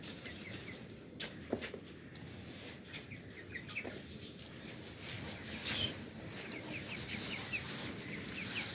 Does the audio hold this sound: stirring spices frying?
no